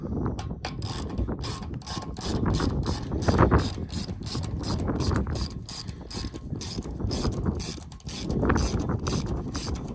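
A ratchet wrench works loose a clamp, its rapid pawl clicks rattling close and steady in continuous bursts across the whole stretch, with no talking.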